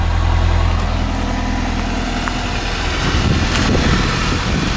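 A 1994 Saturn SL2 Homecoming Edition idles just after a cold start, emitting a slight puff of exhaust, with a steady, close, low engine rumble that holds evenly throughout.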